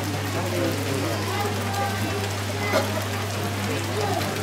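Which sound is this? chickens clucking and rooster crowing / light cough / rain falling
rain falling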